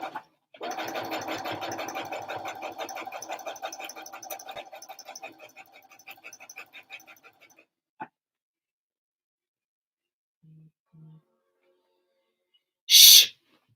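A sewing machine stitching a backstitch, a rapid close mechanical whirr for several seconds that slows and stops, followed by near silence with a few faint blips and a short bright sound at the end.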